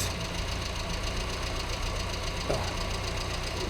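A car engine runs at a steady idle with a dense, even mechanical drone and faint knocking texture while its sensitive carburetor is being adjusted, constant and close with no speech.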